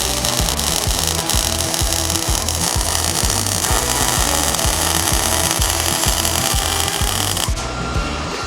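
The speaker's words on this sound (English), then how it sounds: "So now we're gonna weld the inside of our fabricated bar, flat steel bar here" Welding along the inside of a fabricated flat steel bar for a custom Sportster seat tail produces a loud, continuous electric buzz with a regular rapid pulse, close up, cutting off just before the end.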